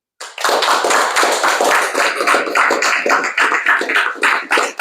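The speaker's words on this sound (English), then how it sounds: "give yourselves a round of applause" A round of applause from an office audience during a state government visit, dense clapping at first that thins into scattered, uneven claps toward the end, close and loud.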